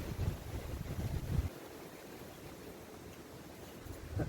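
Wind gusting outdoors at a hillside bushcraft camp in the UK, rough low rumbling buffets against the microphone that swell strongly for the first second and a half, ease to a steadier hiss, then surge again at the end.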